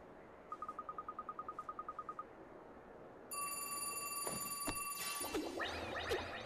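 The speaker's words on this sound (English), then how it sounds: "And the phone's ringing." A telephone in the video game Ni No Kuni rings in a rapid trill of about fifteen short pulses, then a sustained electronic tone with chimes and rustling follows, all quiet and clear.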